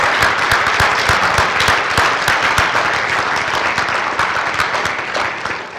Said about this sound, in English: let's give a round of applause to all of our recipients